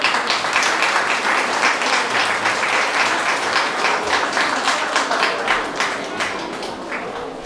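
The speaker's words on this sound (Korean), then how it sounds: "박수로 모시겠습니다." Wedding guests applaud to welcome a pastor to the front, sustained close group clapping with a steady rhythm that carries on for several seconds before thinning near the end.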